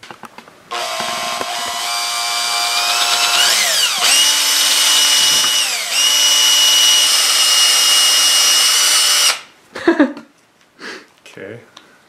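A power tool machines a scored piston top with a loud, steady, high whine that rises and dips in pitch for several seconds before it cuts off. Brief talking and clattering follow.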